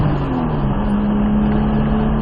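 A Nissan Skyline R34 GTR on track, its engine droning loud and steady under throttle with a rising tone, close and continuous, no talking.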